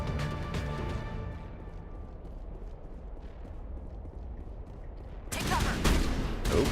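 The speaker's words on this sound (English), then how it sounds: "Oh, they're shooting at us." Gunfire erupts in the Mass Effect 1 video game, a dense burst of shots that breaks in loudly near the end after a quieter stretch of ambient tones.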